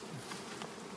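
Honey bees (Apis mellifera) buzz densely around their hives, a continuous close-up hum with no one speaking.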